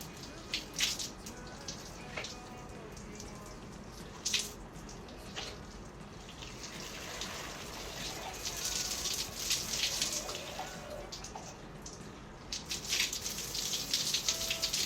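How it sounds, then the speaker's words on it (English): Tap water runs and splashes steadily while hair is drenched during a wash routine, with broadband rushing that swells in the latter half and occasional drips and splatters close by. "So I'm just going to drench the hair in water."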